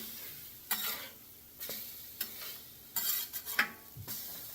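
French toast frying on a flat top griddle, a soft steady sizzle broken by several sharp scraping and clinking spatula strokes on the metal surface, with no talking.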